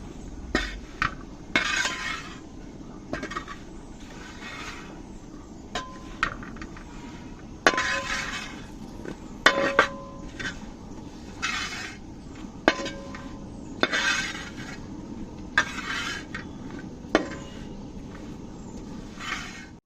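A ladle stirs curry for a Kerala sadhya in a metal pot after fenugreek powder goes in, producing irregular bright clinks and scrapes against the pot every second or two, with quieter shuffling between strokes.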